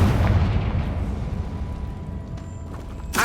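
A Confringo spell detonates in Hogwarts Legacy, a loud explosive burst at the start that rolls into a long rumbling decay, with a sharp crack near the end.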